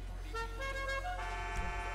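A car horn being tried out in a tuning garage in the GTA V video game, several melodic tooting notes stepping in pitch, loud and clear over a low game hum.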